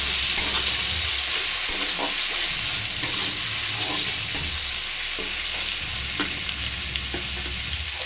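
Raw tomatoes fry in a pan while being stirred for upma, a steady close sizzle broken by regular scraping strokes of the spoon.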